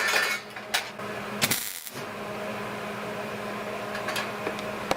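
MIG welding on super thin sheet metal gives a faint, steady crackling sizzle like frying bacon, with a few sharp clicks and bursts near the start before the arc settles into an even hiss.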